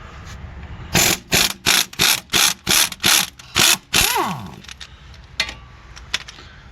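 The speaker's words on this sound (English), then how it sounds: "Now we're going to be removing this nut right here." A ratchet wrench clicks through about eight even, loud strokes loosening a 14 mm nut on the strut of a 2010 Ford Fusion 2.5L, followed by a brief whirring spin and a few scattered metallic clicks.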